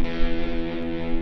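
An electric guitar riff played through distortion combined with fuzz gives a thick, sustained saturated tone with heavy harmonics, loud and alone.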